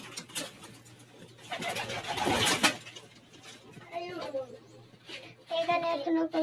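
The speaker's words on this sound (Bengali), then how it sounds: "এটা লক্ষা কবুতর।" Lakkha pigeons in a loft coo in short soft bursts, with a louder flutter of wings or movement midway and a few brief chirps toward the end.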